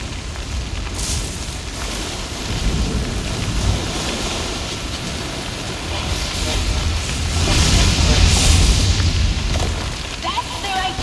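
A thunderstorm with lightning rages in the Guild Wars 2 game, a dense roar of rain and wind with deep rumbling booms that swell louder toward the end, while a voice speaks over it.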